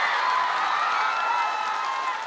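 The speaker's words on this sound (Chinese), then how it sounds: "再次把掌声送给梁组好吗？" A television singing-show studio audience applauds and cheers, a dense, sustained wash of clapping that fills the whole moment and tapers slightly at the end.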